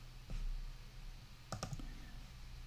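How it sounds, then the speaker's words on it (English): A computer mouse clicks to open a report, with a faint tick early on and then a quick cluster of two or three crisp clicks, all quiet over a low background hum. "If I click on that, it'll just open up the report."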